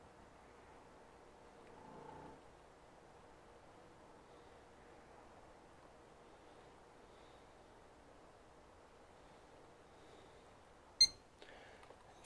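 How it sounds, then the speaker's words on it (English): An Asus ROG Maximus XI Hero gaming PC with an MSI graphics card gives one short, sharp POST beep late in a quiet stretch, followed by faint clicks. "So we get a beep."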